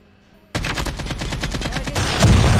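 AK-47 fire in the mobile game Call of Duty Mobile: a sudden, loud, rapid burst of automatic shots that continues without a break to the end.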